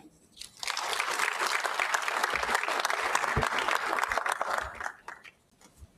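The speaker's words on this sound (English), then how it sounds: "Please, let's give them another generous round of applause" An audience claps at a town hall forum on budget and economic performance; the applause swells quickly after a quiet start, stays dense and even, then thins out and dies away near the end.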